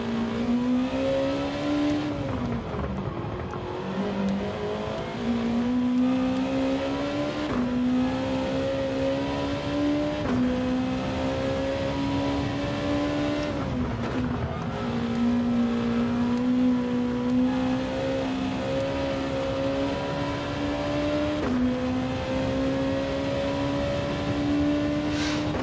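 A racing car's engine in Gran Turismo 7 revs and pulls through the gears, a loud, steady drone that rises in pitch and drops sharply at each shift, with several upshifts in a row and no talk.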